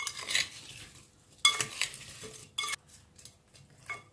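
Roasted vegetables and figs being stirred in a pan, a few short scraping and clinking bursts of utensil against metal with quiet gaps between, close and moderately soft.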